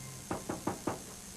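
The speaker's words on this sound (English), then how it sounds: "and then we knock on the door." Four quick, evenly spaced knocks on a house door, close and distinct against a quiet background.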